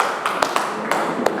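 A classroom of students claps in short bursts of sharp, close, uneven claps, with a few quicker taps between them. The cheer is brief and lively.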